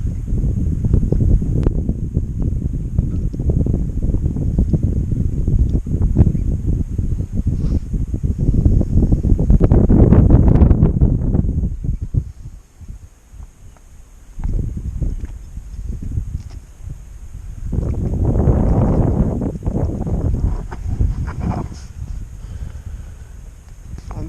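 Strong wind buffets a small boat at sea in rough summer weather, roaring in loud gusts with quieter lulls between them, and the noise swells again toward the end.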